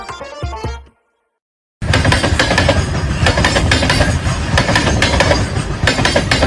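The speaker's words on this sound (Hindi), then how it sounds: "भाई सबको कंफ्यूजन है कि ट्रेन के पहियों की आवाज है या फिर भाई डब्बे हिल रहे हैं" An Indian Railways train rolls along with its wheels clattering over rail joints, a loud, dense, continuous rumble and clack. It follows a brief burst of other sound and a short gap of silence.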